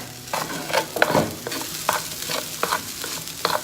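Black beans, vegetables and rice stirred in a pan, giving soft scraping and light sizzling strokes in an uneven rhythm, close and moderately loud with no voices.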